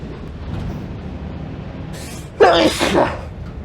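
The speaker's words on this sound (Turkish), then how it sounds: "Yine hapşırasın tuttu." A person sneezes once, sharp and close, over steady engine hum inside an old Ikarus 260 bus in the OMSI 2 driving game, with a short intake just before the burst.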